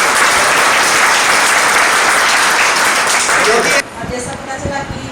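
Loud, dense audience applause after a Hindi stage drama performance, sustained for nearly four seconds and then abruptly cut to a quieter background with faint voices.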